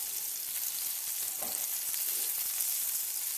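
Yellow bass fillets fry in a pan with a steady, dense sizzle that stays even and close throughout, with no talking.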